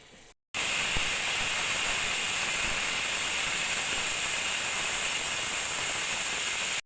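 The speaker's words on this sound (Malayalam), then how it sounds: "കുക്കർ രണ്ടാമത്തെ വിസിൽ വരുന്നുണ്ട്." A pressure cooker on a gas stove, cooking raw jackfruit, vents steam in a loud, steady, continuous hiss that starts abruptly after a brief quieter moment and holds for several seconds.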